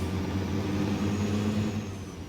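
A Cat 3406-C diesel engine in a truck in American Truck Simulator rumbles steadily with a low droning tone, heard up close and continuous with slight variation in pitch, no voices.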